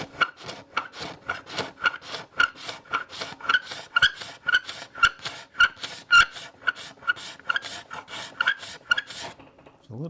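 A steel scraper blade shapes a wooden rule joint with rough grain, making a steady run of quick, rhythmic rasping strokes, close and distinct, with no voices.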